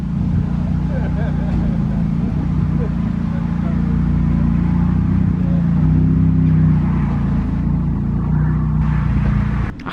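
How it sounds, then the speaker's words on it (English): McLaren supercar arriving and rolling in at a classic car gathering, a loud, steady engine rumble close by that builds slightly and holds, with a person talking over it. "The McLaren coming in."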